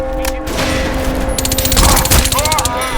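Gunfire in the video game Crysis 2: bursts of automatic fire and scattered shots with booms and impacts, growing louder and denser near the middle, mixed with game tones and someone talking over it.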